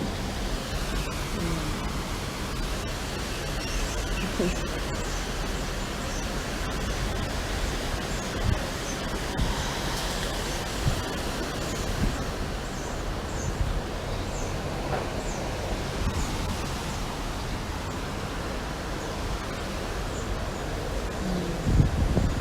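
Steady wind blowing outdoors, a broad continuous rush that holds at an even level for the whole stretch with no talking.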